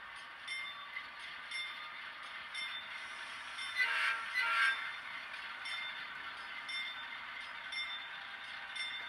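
A model train rolls forward on a railroad layout with a faint, steady electric motor whine. A brief horn-like tone swells in the middle, and the sound stays quiet and continuous, without speech.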